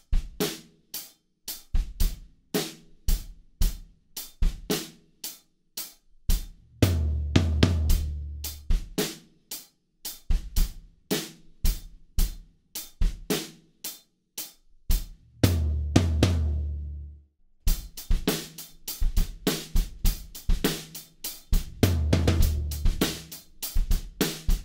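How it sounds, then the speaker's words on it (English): A drum kit plays a song's beat at doubled tempo, snare cracking on beats two and four with kick drum hits, crisp cymbal accents and a brief pause before the groove resumes. "So now our snare drums are on beat two and beat four, and the beat sounds like this."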